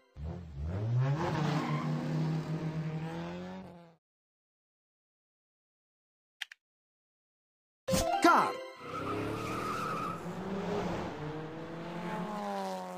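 A formula race car roars and skids with screeching tires in two loud bursts of several seconds each, separated by a stretch of silence and a faint click.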